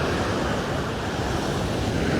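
Ocean waves break close to the beach at Ilha de Tavira, a steady, broad rushing wash with wind buffeting the microphone, continuous and fairly near.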